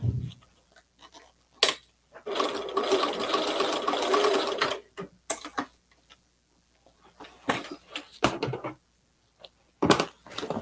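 A sewing machine runs in steady stitching bursts as it sews denim cut from old jeans into a new garment, with pauses between runs and a few clicks and handling sounds.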